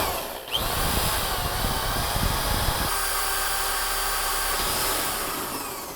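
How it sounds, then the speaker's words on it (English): A power drill with a one-inch hole bit bores a door latch hole through a jig, a steady loud whirring grind that shifts to a lower, heavier tone partway through and runs continuously without talk. "This is an inch hole bit. I'm going to insert it just like I inserted the other hole bit into the jig. Now I'm going to cut my latch."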